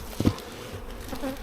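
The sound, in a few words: honey bees buzzing at hive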